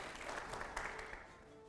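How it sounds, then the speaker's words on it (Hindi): Applause sound effect played on a Hindi political interview show, a steady wash of clapping lasting under two seconds and tapering off toward the end, with no talk over it. "अगले सवाल के लिए जोरदार तालियां हो, प्ले करिए।"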